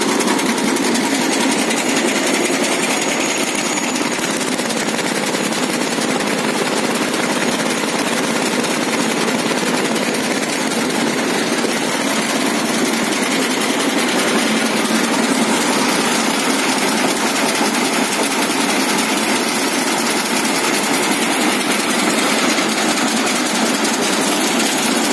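A PTO groundnut harvester driven by its own engine runs steadily and loudly for the whole stretch, a dense continuous mechanical drone with no pauses and no voices.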